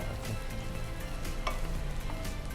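Halved chillies sizzle in a hot pan while black sesame chicken is being cooked, giving a steady, close, continuous frying hiss with scattered crackles and a light stirring scrape, no voices.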